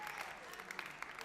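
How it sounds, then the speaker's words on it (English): Audience applause at a live open-stage variety show, a brief burst of clapping from a crowd, fairly faint and steady across the moment. "Give a nice big round of applause."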